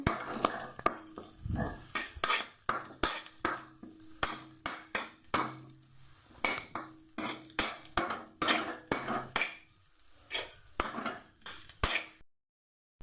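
Fried egg is stirred into fried rice in a pan with a run of sharp, rhythmic spatula scrapes and clanks over a soft sizzle, close and fairly loud, ending in silence.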